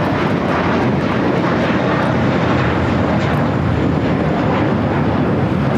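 An American Airlines Airbus A321 takes off from LAX for Dallas-Fort Worth, producing a dense, loud jet engine roar that stays constant throughout, with no voices over it.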